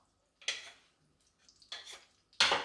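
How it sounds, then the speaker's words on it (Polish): A tablespoon of butter dropped into heated olive oil in a pan, three short soft bursts of sizzle and clatter separated by quiet gaps, close and fairly faint. "oliwa jest rozgrzana, więc dokładamy około łyżki stołowej masła"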